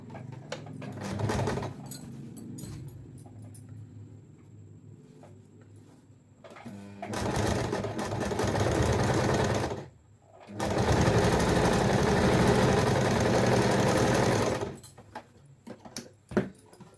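A sewing machine stitches fabric tape onto a six-part cotton inskirt (petticoat), running in three bursts, a short one, then two longer runs of several seconds each, close up with quiet handling sounds between them.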